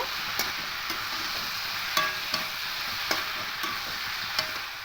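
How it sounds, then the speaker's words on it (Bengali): Green chilli and poppy seed paste being stirred into mung dal, with a low continuous sizzle beneath a string of light spoon clicks and scrapes at uneven intervals, close and quiet, no speech. "এবার কাঁচা লঙ্কা আর পোস্ত পেস্টটা দিয়ে দেবো খুব ভালো করে মিশিয়ে নেব"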